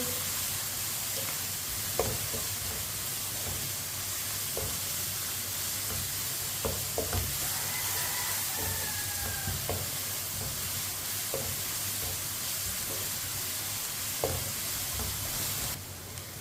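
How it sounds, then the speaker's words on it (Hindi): Finely chopped onion and crushed garlic fry in a pan for a dal palak, giving a steady sizzling hiss with occasional soft stirring clicks, no talking. "एक बारीक कटा हुआ प्याज, 1 चम्मच कुटा हुआ लहसुन। 3-4 मिनट के लिए पका लेंगे दोनों चीज़ों को।"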